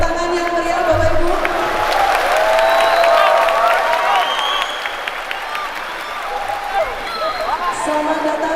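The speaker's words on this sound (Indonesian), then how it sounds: "boleh beri tepuk tangan yang meriah Bapak Ibu" A crowd's lively applause welcoming the Governor of Central Java at a formal ceremony, dense clapping mixed with some cheering and background voices, loud and sustained before easing slightly.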